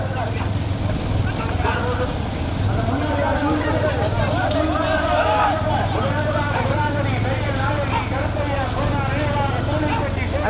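Horses in a village race at Pudhunilaipatti, a continuous rapid clip-clop of hooves running close by, mixed with loud crowd babble and shouting over a low engine hum.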